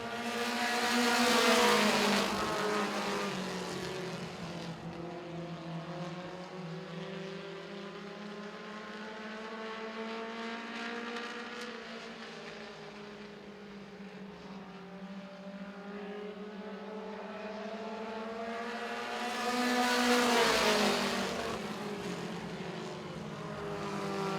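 Race cars on a short oval at Baer Field Motorsports Park during the 2019 Harvest Hustle, a pack roaring past loud and close around 2 and 20 seconds, with a steady engine drone carrying on between the passes.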